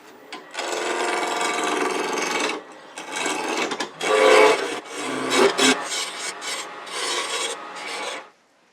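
A wooden spindle spins on a woodturning lathe as a tool shaves it round for a St Patrick's cross replica, giving a continuous rasping, scraping hiss with uneven surges and brief gaps, close and fairly loud.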